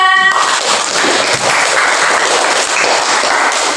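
A class of students in an Indonesian school lesson bursts into loud, dense applause that carries on evenly for several seconds, with a brief voice at the very start.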